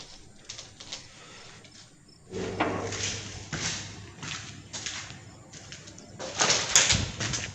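Door closing in a Hindi-played horror video game, a low creaking swell followed by a thud, set amid eerie ambient noises and insect-like chirps.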